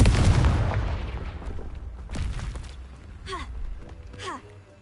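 A Confringo blasting spell in a Harry Potter video game erupts as a loud booming explosion at the start, decaying into rumble, followed by softer whooshing magical effects and a gasp-like breath.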